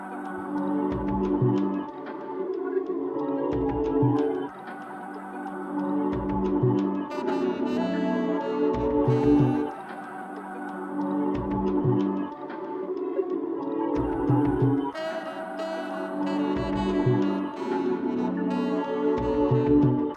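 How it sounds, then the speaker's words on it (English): Layered ambient R&B electronic music made in FL Studio 20: a percussion loop with punchy low hits in a steady rhythm, vocal-like tones, and a swelling reversed melody, moderately loud throughout. "this is what the Perc Loop, the vocals, and the reverse melody sounds like"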